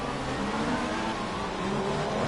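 A video game race car engine in a GP2 race at Abu Dhabi, held at a steady, buzzing high pitch, droning continuously on the rev limiter.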